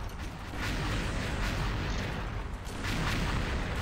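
Dense, continuous gunfire from a first-person shooter game, XSHOT, heavy and booming with rapid overlapping shots that run without pause and swell slightly toward the end.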